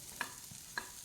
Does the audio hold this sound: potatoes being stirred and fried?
yes